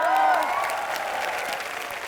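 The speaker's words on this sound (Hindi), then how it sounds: "जोरदार तालियां और एक बार।" A studio audience on an Indian TV comedy show breaks into applause, a dense burst of clapping that starts loud and eases off slightly over two seconds.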